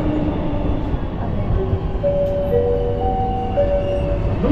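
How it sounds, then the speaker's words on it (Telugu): A metro train rides between Chinatown and Little India, a steady rumbling hum with tonal whines rising as it moves, heard from inside the carriage. "ఇప్పుడు మేమైతే ట్రైన్లో లిటిల్ ఇండియా వెళ్తున్నాం అనమాట"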